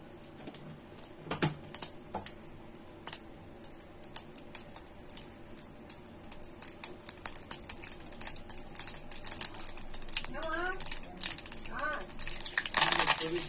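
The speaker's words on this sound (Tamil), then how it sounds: "கடுகு பொரிஞ்சு வரட்டும்." Mustard seeds splutter in hot sesame oil for a garlic mint kuzhambu, a rapid scatter of sharp pops and crackles that grows busier toward the end, with talk over it.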